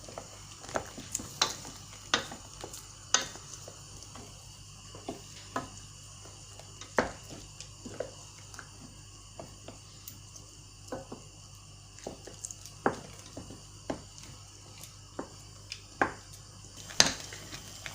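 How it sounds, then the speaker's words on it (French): Caramel is stirred without pause in a pan for a cake: scattered light scrapes and taps of a utensil against the pan come at irregular intervals over a faint steady hiss, close but quiet, with no voices. "il faut continuer à remuer jusqu'à ce qu'on obtient une crème"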